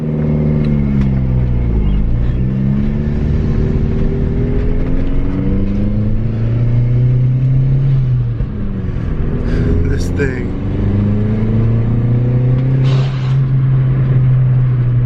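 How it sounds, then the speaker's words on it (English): A Volkswagen MK4 GTI with a blow-off valve idles and then drives, its engine note rising and falling through steady, close, loud rumbling revs. "now we need to make sure that this thing's idling okay."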